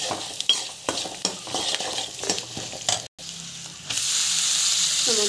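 Avalakki upma with turmeric sautéing in a pan, with close stirring scrapes and clinks over a steady sizzle that swells louder near the end.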